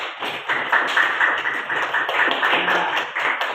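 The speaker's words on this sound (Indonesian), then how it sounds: "Silakan berikan aplaus dulu." A class audience gives steady applause after a group presentation, many hands clapping together at close range for a few seconds.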